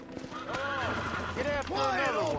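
A video game horse whinnies twice in wavering descending calls over a low steady hum, with soft hoof clip-clop mixed in and a voice talking nearby.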